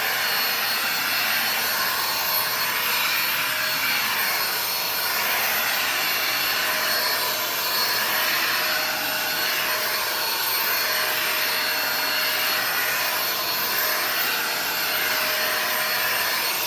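A Miele Joy vacuum cleaner runs continuously, giving a loud, steady motor whine and airflow rush that barely changes throughout, with no speech.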